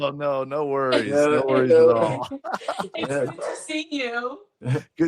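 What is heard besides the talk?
None of the usual background noises is heard.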